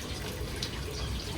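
Water scooped by the left hand from a shrine purification basin, a short steady trickle and splash heard close up with no talking.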